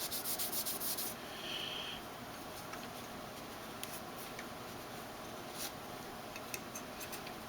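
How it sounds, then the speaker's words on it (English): Soft, steady rubbing and wiping of cloth over a Benchmade 2550 Mini Reflex knife, close up and quiet, with a few faint ticks and scrapes and no voices. "at least you can listen to me wiping down my knife"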